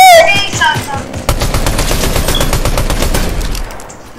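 Rapid bursts of Fortnite gunfire in a zero-build match, a dense run of close, loud shots lasting several seconds after a brief voice and sharp electronic game tones at the start.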